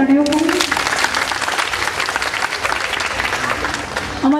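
Enthusiastic applause from an audience at a Navratri garba night in a Surat residential society, dense, steady clapping sustained throughout with a brief tonal sound at the start.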